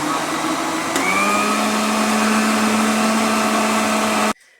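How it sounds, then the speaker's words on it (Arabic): An electric mixer whirs loudly and steadily through crepe batter made without eggs, its motor pitch dropping slightly near the start, then running alone at a constant drone until it cuts off abruptly just before the end. "غادي نميكسي هادو واحد شويه"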